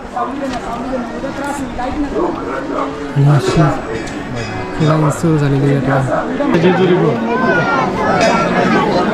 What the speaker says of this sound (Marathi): खूपच गर्दी